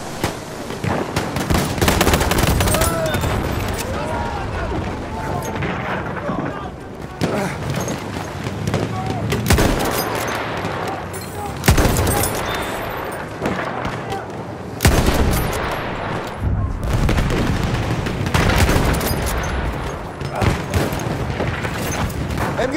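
Sustained enemy machine gun fire and explosions in a Battlefield 1 assault on the River Somme map, loud, dense bursts and booms throughout with voices mixed in.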